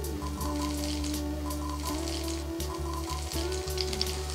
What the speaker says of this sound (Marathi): जिरे छान तडतडले की आपण ह्याच्यात मिरची टाकणार आहे